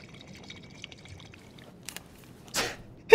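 Water filling canteens in the video game Life Is Strange 2 comes as a short, gurgling pour burst after near silence, followed by a sharp, brief splash-like click at the very end.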